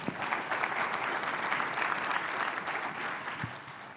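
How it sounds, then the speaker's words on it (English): An audience gives a round of applause for learning practitioners at a talk, a dense steady wash of many hands clapping that holds for several seconds without a break. "So let's give them a round of applause."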